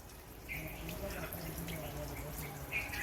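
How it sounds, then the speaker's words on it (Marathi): Water runs from a tap to fill a container, a quiet, steady stream with a brief bright splash near the start and end. "इथं हे याप्रमाणे असं पाणी भरणं चालू आहे"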